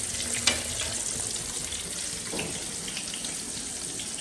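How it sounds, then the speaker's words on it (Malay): Steady, dense sizzling and hissing of chicken chop frying in hot oil in a pan, with a soft clink near the start and no talking. "Chicken chop ni goreng"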